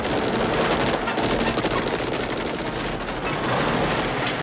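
Dense, continuous automatic gunfire from an action film, loud and unbroken volleys of rapid shots filling the whole stretch.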